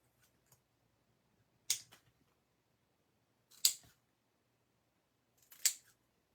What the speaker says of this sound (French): Puis je vais venir couper mes extrémités.